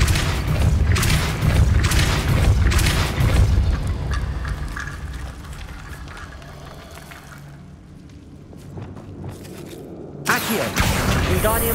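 The Depulso spell in Hogwarts Legacy hitting its target: a series of loud booming impacts with whooshing magical bursts, a quieter stretch, then a sharp new blast near the end.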